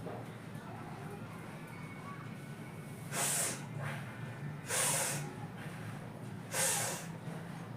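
Three forceful breaths blown out hard during a fat-loss workout, each a loud hissing burst about a second long, spaced roughly evenly apart, close up over a quiet room.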